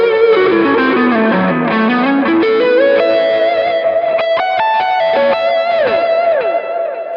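Electric guitar played through a Kemper with Klon overdrive and reverb: a gritty, sustained melodic line with bends and slides, then quick picked notes, loud and close, with no talking.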